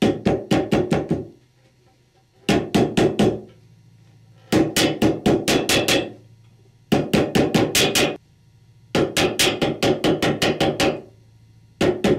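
Rapid metallic hammer blows driving a seal into a Chrysler 46RE transmission housing, in five bursts of several quick strikes each, separated by short pauses, loud and close with a low hum in between.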